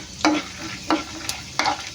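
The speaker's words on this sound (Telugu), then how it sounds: "ఇప్పుడు దీనిలో పచ్చిశనగపప్పు యాడ్ చేసుకుందాం. ఈ పచ్చిశనగపప్పు కూడా కొంచెం ఫ్రై అవ్వడానికి టైం పడుతుంది." Chana dal sizzles quietly in a pan while a spoon scrapes and stirs it in three sharp, evenly spaced strokes, each a short clatter over the soft background frying hiss.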